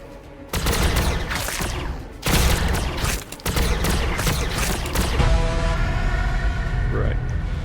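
Battle gunfire in the Warhammer 40K Battlesector strategy game, loud bursts and rapid volleys with booming impacts, dense and continuous, fading into a rumbling tail.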